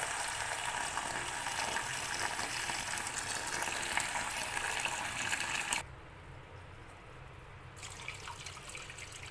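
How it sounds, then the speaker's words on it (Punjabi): Potatoes roasting in a pan with very little oil for a dry potato dish give off a steady, close hissing sizzle that suddenly softens partway through, then continues more quietly. "ਹੁਣ ਆਪਾਂ ਨੂੰ ਚੰਗੀ ਤਰ੍ਹਾਂ ਭੁੰਨਾਂਗੇ"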